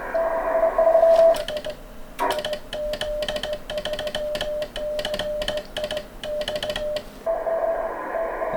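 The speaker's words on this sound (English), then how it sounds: "Il metodo per trasmetterlo è semplicemente un interruttore, perché il tasto telegrafico, questo è il tasto telegrafico originario, è un interruttore." An original telegraph key keys a steady Morse code tone in a rhythmic run of short and long beeps, loud and clear, with brief pauses before and after the sequence.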